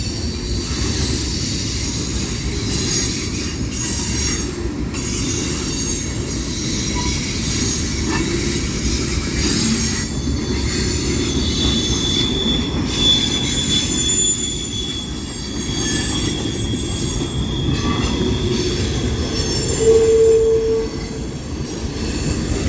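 A freight train rolls past on railroad tracks in the southern United States, loud and close, with a steady rumble and high, drawn-out wheel squeals throughout; no one speaks.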